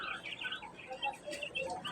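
White birds in a bird shop chirp in quick, overlapping high tweets, moderately close and fairly faint, with other birds calling around them.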